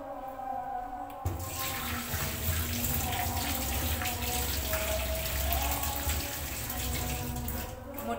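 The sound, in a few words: hands being washed under running tap water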